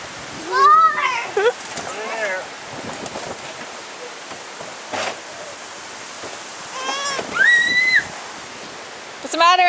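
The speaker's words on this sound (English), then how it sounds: "Watch the wind push up your hair." Strong gusting wind in a windstorm in La Corey, Alberta, roaring as broad, steady noise and buffeting the microphone. Children's voices shout and talk over it throughout.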